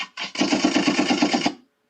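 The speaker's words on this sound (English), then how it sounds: "Gunshots." A rapid burst of automatic gunfire, steady and loud, rattling for about a second and a half before cutting off.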